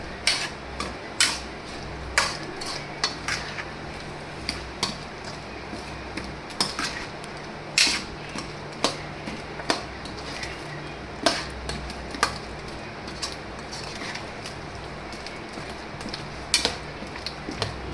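A spoon scrapes and clinks against a pot while a spiced potato snack mixture is stirred, producing irregular metallic taps and ticks over a soft steady background, fairly close.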